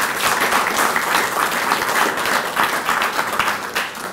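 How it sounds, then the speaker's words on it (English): An audience at an award ceremony for distinguished gentlemen gives a steady round of applause, dense, even clapping from a large room sustained throughout with no talk over it. "I really would like you to give these distinguished gentlemen a nice round of applause."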